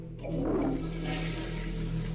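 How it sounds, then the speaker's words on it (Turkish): A toilet flush in a video game: a brief click, then a steady rushing, gurgling swirl of water that holds at moderate level and fades slightly, heard alone without talk. "Sifonu mu çek?"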